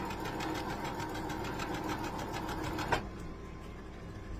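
A sewing machine stitches a quarter inch seam in fabric, running at a steady rapid clatter for about three seconds before stopping abruptly, with only faint room noise left afterwards.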